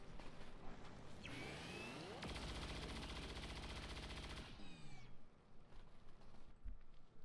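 Automatic gunfire from the video game XCOM 2 War of the Chosen, a loud sustained burst that ramps up, holds for a few seconds, then tails off, with quieter game sounds around it.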